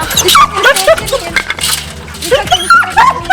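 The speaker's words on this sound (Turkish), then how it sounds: "Bu niye havlıyor biliyor musun?" A dog, apparently a black wolf-like dog, gives excited yips, whimpers and short barks in close, busy bursts, with people talking over much of it.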